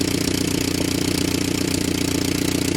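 An old Willys Jeep engine idles steadily and loudly close by, its fuel pump leaking, with an even rapid pulsing chug throughout and no voices.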